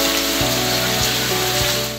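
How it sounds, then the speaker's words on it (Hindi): Heavy monsoon downpour in the Charsadda area of Khyber Pakhtunkhwa, a steady dense hiss of rain drumming on surfaces, loud and continuous with a few low thumps underneath and no talk. "पख्तूनख्वा में चारसद्दा और अतराफ के इलाकों में भी मूसलाधार बारिश।"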